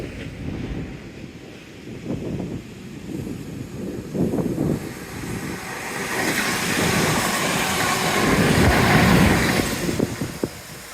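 A train rumbles past in the distance at Shaldon, building to a louder roar as it goes by, with gusty wind buffeting the microphone throughout.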